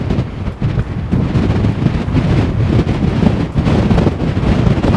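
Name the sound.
wind blowing at Ramla Hamra red beach, Gozo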